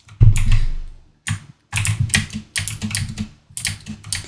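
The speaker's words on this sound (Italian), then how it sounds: "Forse si sente un po' troppo la tastiera. Dovevo prenderla con gli switch brown." Bursts of rapid, clacky typing on a mechanical computer keyboard, loud and close, with short pauses between flurries of keystrokes.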